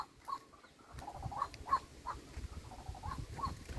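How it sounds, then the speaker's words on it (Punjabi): Birds, including a koel, calling on an early morning walk near village fields, scattered short chirps and calls rising faintly over a low outdoor rumble. "ਬਹੁਤ ਆਨੰਦ ਦਿੰਦੀਆਂ ਨੇ ਸਵੇਰੇ ਸਵੇਰੇ ਪੰਛੀਆਂ ਦੀਆਂ ਆਵਾਜ਼ਾਂ"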